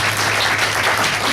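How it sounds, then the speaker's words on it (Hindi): Audience clapping at a mushaira poetry gathering, a dense, continuous wash of hands from a crowd with a steady low hum beneath. "मुशायरे में ताली बजती है"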